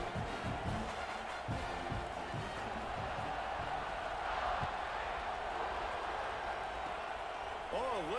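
A stadium crowd in a college football video game roars in a continuous, steady wash of cheering, while a commentator talks over it.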